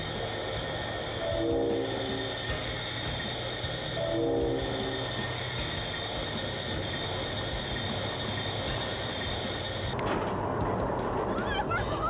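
A train rolls steadily with a continuous mechanical rumble and high whine, and two short horn blasts sound several seconds apart before the noise shifts near the end.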